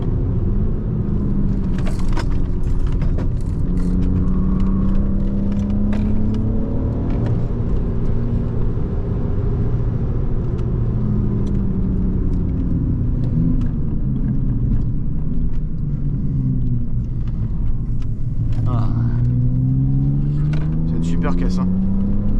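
A BMW 325ti E46 with a fitted exhaust rumbles steadily through the whole stretch, with engine tones climbing and falling as it accelerates, heard from inside the car while people talk over it.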